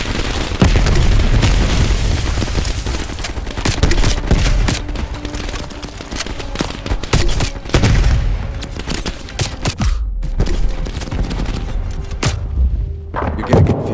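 Heavy firefight from Call of Duty Black Ops Cold War, with crash survivors defending against a VC attack: dense, continuous bursts of gunfire mixed with booming explosions and thuds, loud and close throughout.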